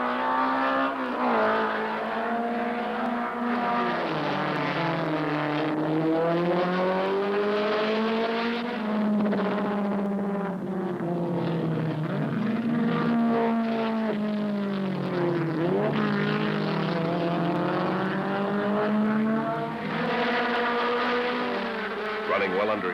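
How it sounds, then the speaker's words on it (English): Vintage race cars, a Nissan Datsun 510 and an Alfa, battle on a track, engines loud and continuous with rising and falling revs as they accelerate and brake through curves, no talk over the engines. "Running well under his qualifying time, Kwech pushed his Alfa to the limit, and sometimes a little beyond."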